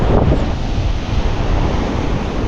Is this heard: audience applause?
no